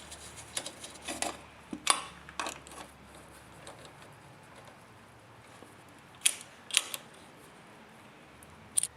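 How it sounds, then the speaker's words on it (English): Hand fitting of the engine cover on an overhead-valve Briggs lawn tractor engine, with scattered light plastic-and-metal clicks and clacks in irregular bursts, close by, between quiet stretches. "I'm just going to snug the cover by hand like this."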